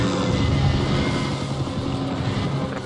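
Police helicopter in the racing game Need for Speed: Undercover, a loud continuous rotor and engine roar blended with vehicle rumble, steady for a few seconds with no talk.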